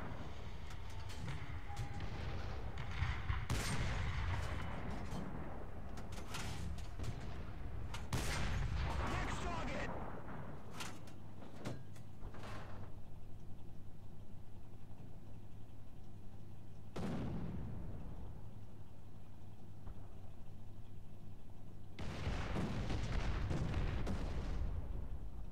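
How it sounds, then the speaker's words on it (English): Artillery fire in War Thunder during a tank battle at El Alamein: repeated loud booming shots and blasts, some clustered and some isolated, over a steady engine rumble with occasional radio voices. "We need artillery support!"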